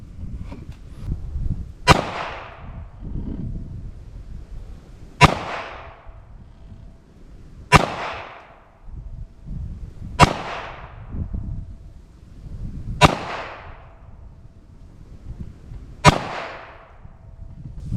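Taurus 856 snub-nose revolver fired double action, six sharp, loud shots spaced roughly two to three seconds apart, each with a brief ringing tail over low outdoor rumble.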